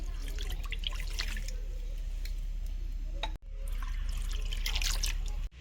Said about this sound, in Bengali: এখন আমি পানি দিয়ে দেবো 2 কাপ।